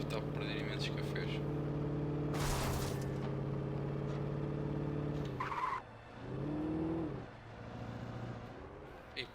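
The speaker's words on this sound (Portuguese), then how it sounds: "Mais um carro para conduzir." Car in the video game Alan Wake, a steady engine drone with a burst of noise, a brief tire squeal and gear shifts.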